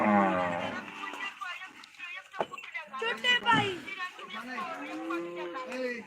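Cattle at the crowded Loni cow market, with high-yielding HF cows among them, give long, loud mooing calls close by, mixed with people talking and market chatter.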